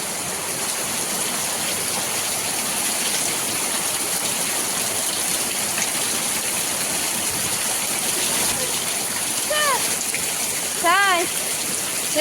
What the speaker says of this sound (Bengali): বৃষ্টি হচ্ছে তাই দেখছে বাইরে